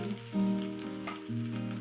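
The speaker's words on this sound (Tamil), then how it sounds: "நல்லா வதக்கிக்கணும்." Small shallots sauté with fennel seeds in hot oil in a kadai, giving a close, steady sizzle with brief louder crackling bursts as they are stirred.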